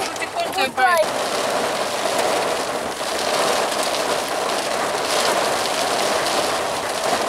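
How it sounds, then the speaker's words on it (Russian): Steady, dense rain pours down on surfaces, a constant hiss throughout, preceded by a brief squeaky rattle at the very start. "Дождь мы давно ждали, поэтому здорово, что дождь пошел."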